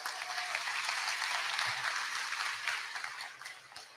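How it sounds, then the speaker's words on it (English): Crowd applause at an anti-abortion rally honoring a soon-to-be-married speaker, a steady wash of many hands clapping at moderate distance, holding evenly for several seconds and easing slightly at the end, with no talk over it. "So a round of applause for Logan."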